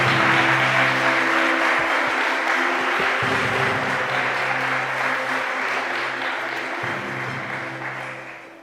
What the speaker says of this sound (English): I think we should all give her a massive round of applause once again.